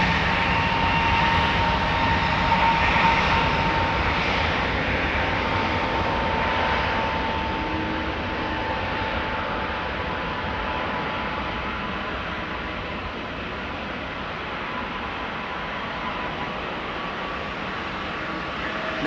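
A KLM airliner on flight 1603 to Rome departs Amsterdam Schiphol Airport with a broad, continuous jet roar that holds strong, then eases slightly and stays steady for the whole stretch, with no talk.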